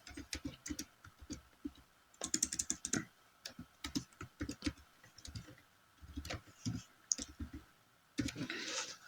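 Typing on a computer keyboard while entering a project name in project-management software: quick bursts of close, crisp key clicks with short pauses, moderately quiet, with no speech.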